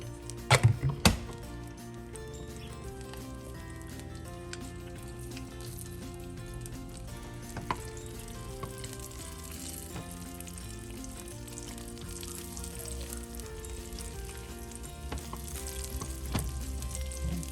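Chain pickerel fillets frying in light-tasting olive oil in a pan, a steady close sizzle with occasional sharp pops and a few clinks, no talking.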